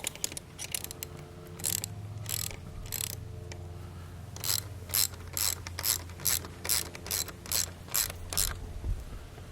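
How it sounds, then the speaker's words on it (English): A ratchet wrench clicks in quick bursts while tightening an exhaust bolt on a 2022 Honda Grom SP, the close, sharp pawl ratcheting repeated in rapid strokes with short pauses between. "Give it one nice little crank, get her tight."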